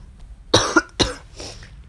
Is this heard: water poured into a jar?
no